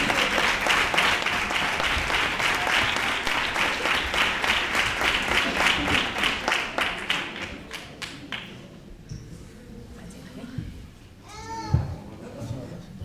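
An audience applauds a culture councillor at a Three Kings proclamation and coronation event in Nerva, with brisk, even clapping that slows into scattered claps and fades as voices and murmurs take over.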